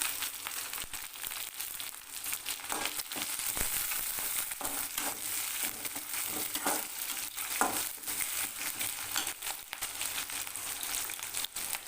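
Sliced onion, curry leaves and three cut green chilies fry in oil in a pan, giving a steady, close sizzle with soft scraping stirs throughout.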